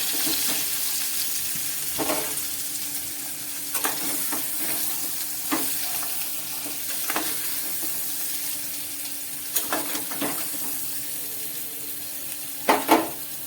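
Potatoes frying in oil for a vegan curry, a steady sizzle running throughout with scattered scraping stirs and a few louder clatters near the end; no voices.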